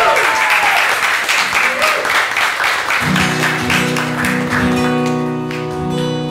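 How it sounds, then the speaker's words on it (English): A bar audience claps and cheers for a performer, with loud, dense applause that fades slightly toward the end as a voice and instruments come in underneath. "can we get one more round of applause for Matthew Aram?"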